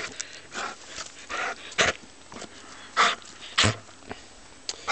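A dog outdoors in a snowy blizzard in Vernon, NJ gives several short, breathy snorts and huffs at irregular intervals, fairly close and moderately loud over a quiet background, with no talking.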